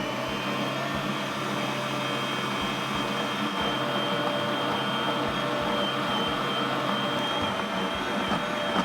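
A stand mixer runs at medium speed with its paddle working low-carb keto white bread dough. It makes a steady, continuous motor whir that holds at an even level throughout, close by, with no talking.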